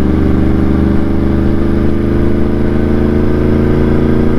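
A Yamaha R1 motorcycle rides in fourth gear on a highway at night, its engine a steady, loud, continuous drone with a close, even tone and no break throughout.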